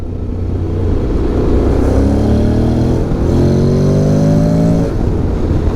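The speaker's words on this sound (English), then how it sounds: "The engine sounds nice." A 2023 Honda X-ADV 750 scooter engine in its most extreme performance mode revs up in rising, whining sweeps, dips briefly, then climbs again, loud and close.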